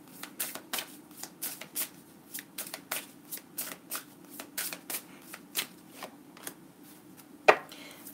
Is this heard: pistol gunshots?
no